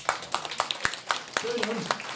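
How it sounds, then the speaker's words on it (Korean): Scattered hand claps from a small indoor audience at a political group's launch ceremony, about eight sharp irregular claps spread across two seconds, fairly faint, with a voice briefly audible near the end. "이럴 때 박수를 한번 쳐야죠."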